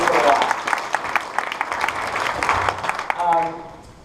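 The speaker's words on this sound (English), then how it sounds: "one more round of applause for them" An audience at a tech keynote event gives a warm round of applause, dense clapping at moderate distance that fades out over a few seconds.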